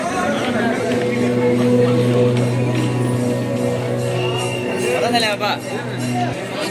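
A crowd of visitors murmurs and chatters inside the Mahakumbh experience centre, a dense continuous babble of voices with a steady drone beneath it, close and fairly loud.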